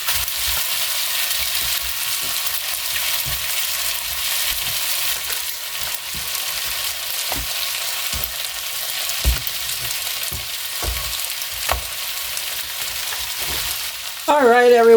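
Tortillas cook on a hot griddle with a dense, steady sizzle close by, broken by occasional light clicks and a louder clatter at the end.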